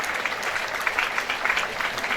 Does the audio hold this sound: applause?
yes